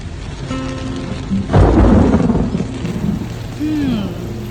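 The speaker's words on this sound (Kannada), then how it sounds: "ಮಳೆ ಶುರುವಾಯ್ತು" Thunder rumbles loudly over steady rainfall, swelling to a heavy crack midway before settling back into a continuous wash of rain.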